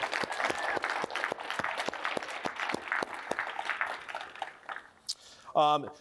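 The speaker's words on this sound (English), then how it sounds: "let's give them a round of applause one more time" Workshop audience applauding the organizers at a Reconnecting Waterways panel event, a run of distinct, evenly spaced claps that thins out and ends with a brief tonal sound at the close.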